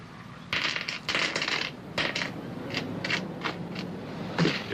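Coins drop onto a shop counter in a radio drama, a series of close, bright metallic clinks and rattles landing in irregular bursts over a faint background hiss.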